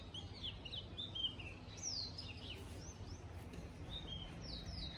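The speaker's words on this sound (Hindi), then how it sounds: "चिड़ियों की आवाज़ सुनो कितनी अच्छी है" Several birds chirp and tweet in quick, bright bursts over a low outdoor rumble, likely a river below, at a hill station, moderately distant and continuous throughout.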